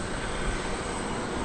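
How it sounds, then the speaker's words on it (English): Small propeller cargo plane at DFW Airport, its engine drone a steady broadband roar that holds constant and fairly loud throughout, with no voices over it. "little propeller plane which is delivering cargo."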